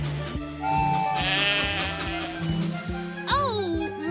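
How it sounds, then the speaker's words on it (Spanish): Sheep bleat in a Thomas and Friends cartoon, a few wavering cartoon bleats over background music, with a voice speaking alongside. "¡Oh! ¡Muchos borregos!"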